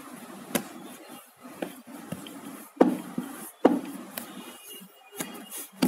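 Wooden rolling pin works doughnut dough on a board, with soft rubbing rolls and sharp knocks as the pin meets the board, close and moderately quiet, with no talk.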